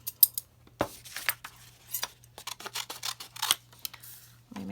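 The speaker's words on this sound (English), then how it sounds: "so now I'm going to cut these out." Scissors snip through paper while cutting out shapes for a Greek theatre mask, a string of short, crisp, close cuts in irregular bursts with brief pauses, heard alone without talk.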